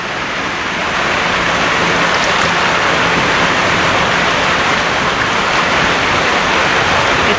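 Water pours steadily from the outlet of a settling tank at a drinking-water treatment plant in Viedma, a loud, continuous broadband rush with no voices over it.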